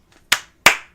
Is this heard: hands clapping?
yes